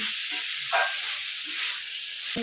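Chickpeas and spices sizzling and frying in a pan on high flame while being stirred and mixed, a steady hiss with a few soft scraping stirs, close and moderately quiet, no talking.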